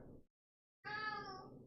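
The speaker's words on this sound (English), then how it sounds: "Can you guys hear my cat?" A cat meows twice: a short call, a brief pause, then a longer drawn-out meow, close by and fairly quiet, with no talking.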